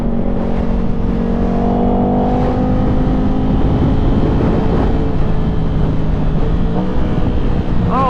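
A Ducati Panigale V4 fitted with a Spark exhaust roars loud and close, its engine note sweeping through rising and falling revs in a continuous throaty blare with crackling downshift blips near the end.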